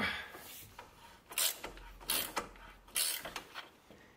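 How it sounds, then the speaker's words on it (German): An 18 mm socket loosens a nut on a BMW front axle steering knuckle, countered with an 18 mm ring spanner; a series of short ratcheting creaks and metallic clicks come in bursts, close and moderately loud, with no talk. "Innen mit einer 18er Nuss die Mutter lösen und mit einem 18er Ring gegenhalten."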